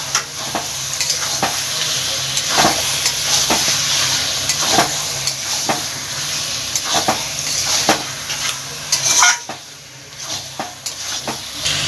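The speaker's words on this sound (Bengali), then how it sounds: "মাংসটা ভালোভাবে মশলার সঙ্গে মিশিয়ে নেব।" Chicken being stirred with spices in a pan on the stove, a spatula scraping and tapping repeatedly against the metal over a continuous close sizzle of frying, with no talk.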